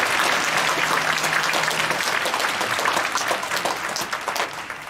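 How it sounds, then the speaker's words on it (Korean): A church congregation at an early-morning prayer service applauds for the children, a dense, sustained burst of many hands clapping at close range that fades slightly toward the end. "우리 어린아이들 위해서 박수 한번 치겠습니다."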